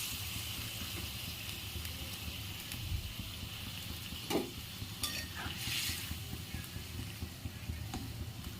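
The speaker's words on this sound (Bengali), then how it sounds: "তারপর আমি এক এক করে বাকি মাছগুলো ঝোলের মধ্যে দিয়ে দেবো।" Chital fish pieces are added one by one into a bubbling curry gravy for chital kalia, giving a steady sizzle and simmer with a few soft splashes and stirring scrapes, close and moderately loud, with no talking.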